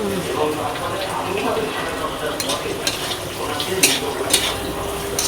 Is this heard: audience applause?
no